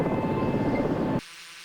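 Helicopter in the Search and Rescue 4 video game flying at nearly 160 knots, a loud steady rotor and engine roar that cuts abruptly to a much quieter hum partway through.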